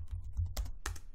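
Rapid clicks of typing on a computer keyboard while editing text in Emacs, a few close, crisp keystrokes in quick succession with two louder taps, alone without voices.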